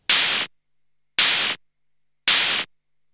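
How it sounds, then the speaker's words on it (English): Heavily distorted static noise from a Decapitator saturation plugin turned all the way up comes as three short, harsh, loud bursts, evenly spaced with silence between them. "I just wanted to turn it into a kind of short, sharp wall of noise"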